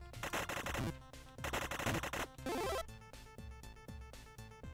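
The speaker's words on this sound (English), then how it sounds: "Machine gun, bandit." Rapid machine gun fire in a video game, loud bursts of dense rattling shots separated by brief gaps, with a steady stream of closely spaced rounds in the second half and no talk.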